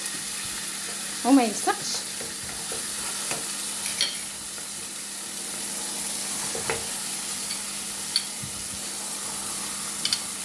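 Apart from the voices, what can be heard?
steak searing in a pan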